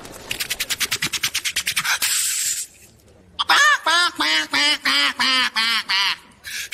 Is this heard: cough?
no